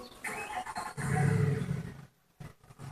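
A car engine in a video game rumbles and revs loudly, swelling to a deep growl before cutting off abruptly, followed by a brief quieter burst.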